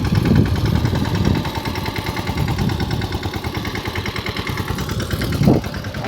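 A large tractor engine runs steadily nearby with a continuous low, rough idle-like rumble and a brief louder surge near the end, no talk over it.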